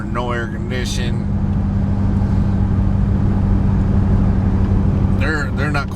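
A steady, loud rumble of a car cruising on the road with its windows up and the air conditioning running, a constant engine and road drone throughout, with someone talking over it at the start and end.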